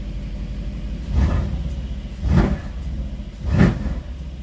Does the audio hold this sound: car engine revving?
yes